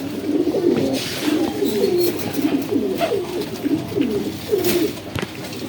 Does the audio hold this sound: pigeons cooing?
yes